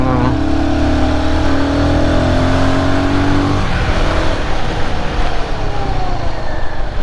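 A Royal Enfield Guerrilla 450 motorcycle engine revs up with a rising whine, then drops off abruptly as the bike brakes, steady roar throughout.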